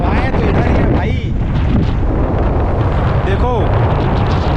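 Strong sea wind buffets the microphone on the Pamban rail bridge, a loud, steady roar and rumble that fills the whole stretch, with faint voices blended into the gusts.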